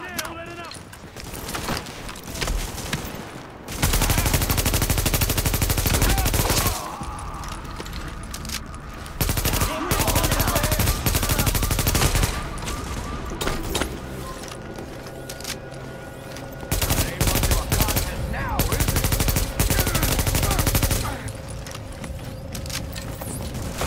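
Heavy gunfire in The Division video game rattles in sustained, loud bursts mixed with explosions and game effects, while a voice speaks over part of the battle.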